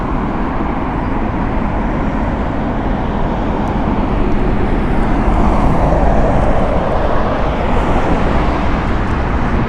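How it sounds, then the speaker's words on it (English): An Air Canada airliner taking off at Heathrow Airport, a loud, steady broadband jet roar that swells slightly midway and holds for about ten seconds, with no talk over it. "That's another Air Canada taking off"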